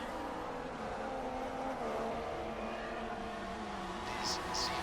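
Formula One car engine from a McLaren in the F1 2016 racing game, droning steadily at high revs while overtaking a Mercedes on the inside at the Abu Dhabi circuit, with other race cars close by and a voice talking over it.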